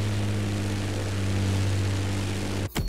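A propeller airplane's engine in the racing game The Crew Motorfest drones loud and steady with a low hum, then cuts sharply near the end, with no talk.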